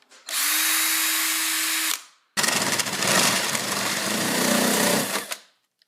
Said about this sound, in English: This is the biggest drill bit I have seen in my entire life